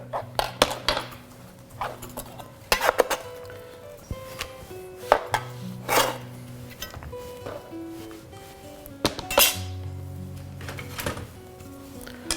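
Knife slicing a cucumber into quarters on a board for a sweet and tangy cucumber salad, giving a scattering of uneven chops and light clatter of dishes, fairly close, with a faint hum underneath.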